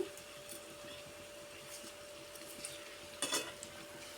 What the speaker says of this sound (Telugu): పెద్ద చేపలు వేసి కారం వేసాను కదా, ఇలా కలిపేస్తానండి